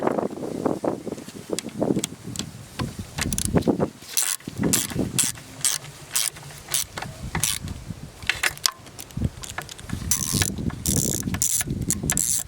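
Ratchet tightening the aluminum coolant outlet housing bolts on a Chrysler Sebring 2.7 V6, with close, moderately loud clicking in irregular runs and short pauses, over faint background noise.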